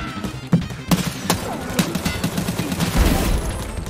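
Gunfire in the video game Escape From Tarkov, a series of sharp close shots spaced irregularly over four seconds amid a rumbling background.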